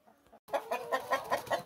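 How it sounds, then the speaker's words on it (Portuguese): A startled rooster squawks in a backyard chicken coop, about six loud, rhythmic squawks close by after a short quieter stretch, with no talking. "O galo se assustou comigo."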